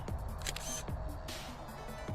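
A single camera shutter click while photographing at night, several soft broadband snaps spread across the moment with low rumbling background noise and no talk.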